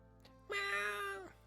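A single clear cat meow in the dating sim Purrfect Date, a drawn-out tonal call of about three-quarters of a second, close and distinct over a quiet background hum.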